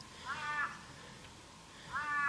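Crows at a lakeside campsite on a still morning give two hoarse, drawn-out caws a little over a second apart, moderately near against a quiet outdoor background.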